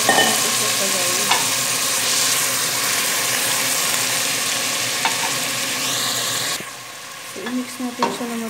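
Bitter gourd and sweet potato, seasoned with calamansi, sizzle steadily in a hot pan while being stirred, with occasional scrapes of a utensil. The frying quiets near the end and a few clinks follow.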